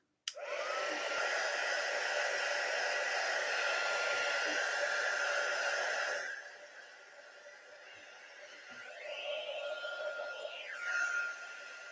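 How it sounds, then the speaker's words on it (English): A heat gun blows as a loud, steady rushing stream for about six seconds, then drops to a softer hiss that swells and fades again near the end. "Heat gun."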